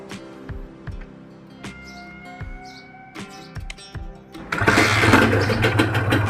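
An old NSR motorcycle's starter cranks in short bursts with birds chirping in the background, then the engine catches and runs with a steady rumble.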